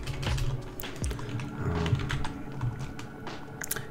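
Computer keyboard typing in a quiet room, a quick run of close, crisp keystrokes with a few louder clacks, no talking.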